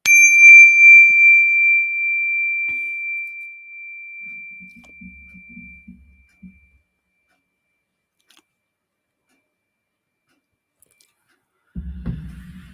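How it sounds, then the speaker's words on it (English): A meditation bell strikes once and its clear, pure ring sustains and slowly fades for several seconds into near silence, followed later by a faint low rustle. "when you detect the vibration of my bell, allow your eyelids to float open"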